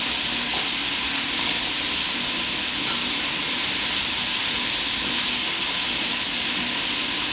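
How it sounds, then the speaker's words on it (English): Sesame chicken strips frying in oil in a pan, a loud, dense, continuous sizzle with occasional faint clicks and pops, holding steady throughout with no talking. "Let it fry for about a minute or 2 so that it can form its crust."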